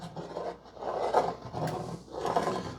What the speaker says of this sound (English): this is when you can start scraping those bits off the bottom of your skillet